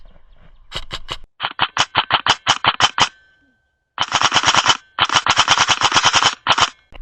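A Novritsch SSR4 MK2 airsoft rifle firing in fast, sharp bursts, crisp close cracks in quick rhythmic strings with a brief silent pause midway, no talking over it.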